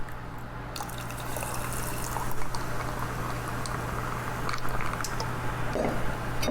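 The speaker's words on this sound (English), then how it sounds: "add in some sparkling water" Sparkling water is poured over ice in a glass, making a steady soft fizzing, bubbling trickle that runs for several seconds, quiet and close, with no talk.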